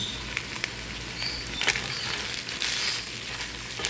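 Pulao rice grains frying with onion in a pan, a steady, close, crackling sizzle that patters on without pause, with a few sharper ticks on top.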